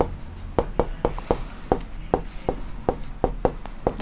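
Pen or chalk strokes sound as numbers are written while solving a ratio problem in a maths lesson: quick, sharp taps and scratches in an uneven rhythm, close and fairly loud, with no talking.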